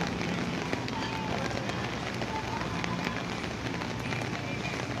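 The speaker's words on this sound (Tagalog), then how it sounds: "Sayang nga lang umuulan, medyo hindi natin ma-enjoy yung view nitong restaurant" Steady rain pours outside a restaurant, a dense, even hiss of drops on surfaces that fills the scene from start to finish with no breaks.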